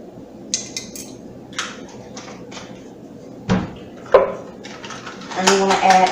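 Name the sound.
adding a quarter teaspoon of allspice, spoon clinking on dishes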